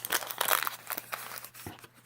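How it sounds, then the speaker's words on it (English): Scissors snip through a paper cupcake liner close up, giving a run of crisp crinkling and cutting sounds with small irregular clicks and no talk. "So just get some scissors"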